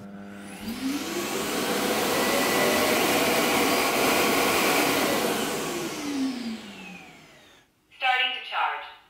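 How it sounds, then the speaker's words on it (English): A Viomi robot cleaner's base station empties the dust container with a loud, sustained vacuum roar that rises and then winds down over several seconds, followed by a short electronic voice prompt. "The gap that we see over here is used by the base station to collect the dust inside the container and makes this interesting sound."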